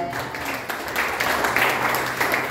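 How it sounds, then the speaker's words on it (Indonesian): A church congregation claps in praise during a sermon, a continuous, fairly loud burst of applause from a crowd that holds steady throughout. "Beri tepuk tangan bagi Tuhan."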